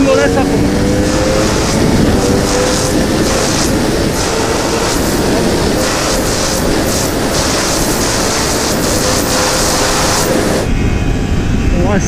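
A sport motorcycle held at full throttle with anti-wheelie control engaged on a race circuit, a loud continuous engine roar with rising tonal whine throughout, cutting briefly near the end.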